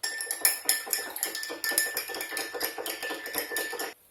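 A spoon briskly stirs baker's yeast into about 150 ml of warm water in a bowl, producing rapid, rhythmic close-up clinks and taps against the sides that stop abruptly.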